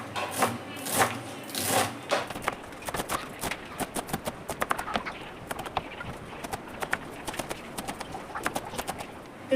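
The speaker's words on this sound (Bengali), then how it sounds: "এইভাবে আমি পুরো শাকটাই কেটে নেব" A knife chops water spinach finely on a board in quick, even strikes, a close, crisp tapping rhythm that starts with a few louder blows and then runs fast and steady.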